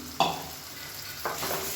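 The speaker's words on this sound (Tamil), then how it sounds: "இதையும் எண்ணெய் பிரிஞ்சு வர அளவுக்கு வதக்கி விட்டுக்கலாம்." Ground tomato paste sautéing in hot oil for a prawn gravy, with two short bursts of stirring and sizzling, one early and one later, over a low steady frying hiss.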